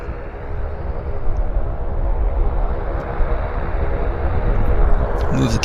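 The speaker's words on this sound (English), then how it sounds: "First we got a Q400 inbound from Castlegar, Air Canada flight 465. Now on approach." Air Canada Q400 turboprop airliner on approach, inbound from Castlegar, a steady broadband engine roar holding loud throughout with a faint droning hum, heard at an airport with no break in the noise.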